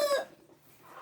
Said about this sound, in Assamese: এইবিলাক চব কটকনাথ মুৰ্গী হয়।